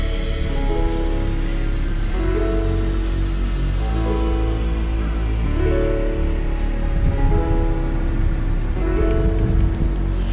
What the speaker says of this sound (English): now that it's like kind of drizzling too